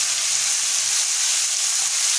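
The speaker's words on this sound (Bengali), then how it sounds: "এখন আমরা এই গরম তেলের উপরে লবণ হলুদ দিয়ে মেখে রাখা 200 গ্রাম চিংড়ি মাছ উপরে যোগ করে দেব।" Prawns marinated in salt and turmeric hit hot oil in a pan, giving a steady, close, even sizzle that holds throughout with no talking.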